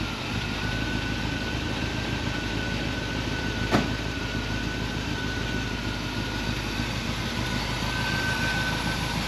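A 1957 Chevy engine idles steadily after a roadside carburetor fuel fix, a low, even rumble that holds constant and fairly quiet throughout.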